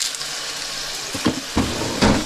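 Garlic cloves hitting a hot frying pan for a smoked bacon and cheese curd pasta, giving a steady close sizzle with a few louder bursts of crackling as the pieces land and are stirred.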